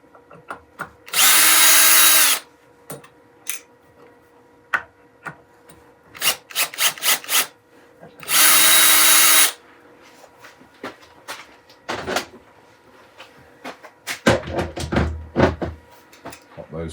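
A power drill whirs in two short, loud bursts as it backs screws out of a faceplate on a wood-turning bowl, with clicks and handling noises between them.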